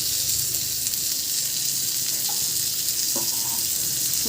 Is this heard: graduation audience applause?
no